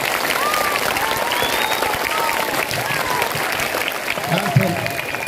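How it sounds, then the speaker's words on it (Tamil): Applause from an audience at a Founder's Day celebration, a dense steady wash of clapping filling the whole stretch, with some voices and crowd noise mixed underneath. "ஜோரா கைதட்டல் பார்ப்போம்."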